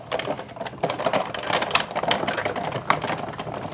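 A manual die-cutting machine rolls paper through an ornate border die, giving a continuous close grinding and crackling with irregular clicks.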